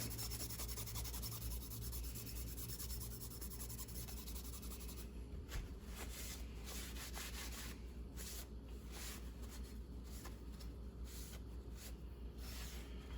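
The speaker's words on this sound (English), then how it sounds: "So we'll just run the Scotch-Brite over it." Abrasive Scotch-Brite pad scrubbing a slightly brown, tarnished metal carriage part from a Vevor mini lathe, a steady close rubbing and scraping that continues throughout, growing more textured and uneven in the second half.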